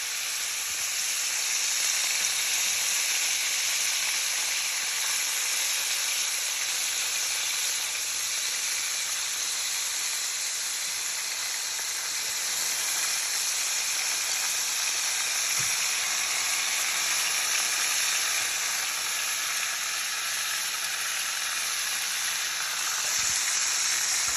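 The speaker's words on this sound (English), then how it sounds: "We're just gonna let it sit and simmer." Onions fry and simmer in oil in a pan, a dense, even, continuous sizzle held close and unbroken for a long stretch, with no talking.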